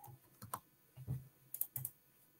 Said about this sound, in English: I need to type the whole word.